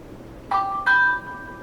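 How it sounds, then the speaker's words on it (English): Samsung Galaxy J3 Orbit 'charming bell' notification tone: two bright bell strikes a third of a second apart, the second ringing on with a sustained shimmering tail, clean and close with no voices. "And then we have charming bell."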